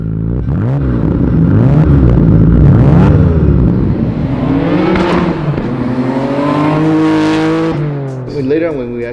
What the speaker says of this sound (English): So this exhaust is pretty cool. It's actually pretty mild. It doesn't have a high pitch.